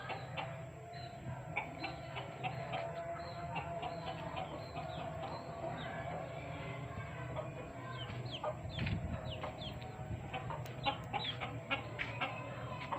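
Hens and a rooster clucking and calling on a home setting, with a steady low hum and a dense chatter of short, mid-loud clucks throughout.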